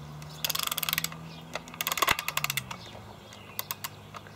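Clockwork of an old-time movie projector music box being wound at the back, a rapid series of sharp ratcheting clicks in bursts with short pauses, close and fairly loud.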